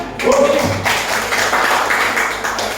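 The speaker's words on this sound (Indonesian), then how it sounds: "tepuk tangan" Students clapping in a classroom, a loud burst of applause with close taps and thuds, voices briefly audible at the start before the clapping carries on steadily.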